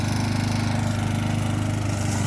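A Matsumoto push lawn mower cuts grass, its engine droning loud and close in a steady, unbroken pulsing rumble with no voices.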